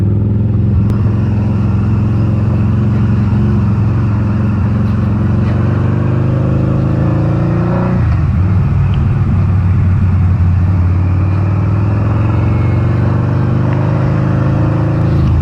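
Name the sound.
Harley-Davidson V-Rod Muscle motorcycle engine while riding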